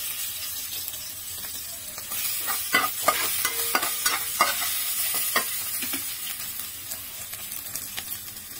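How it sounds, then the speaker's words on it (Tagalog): Bitter gourd (ampalaya) sautéing in a pan gives off a steady, close hiss of frying, broken by sharp spatula scrapes and clicks as the slices are stirred, with no talking. "Magigisa na ako, guys."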